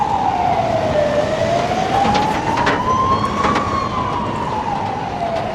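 A fire engine's wailing siren sweeps slowly up and down along a Lisbon street in Portugal, loud and continuous over steady traffic rumble, with no talk.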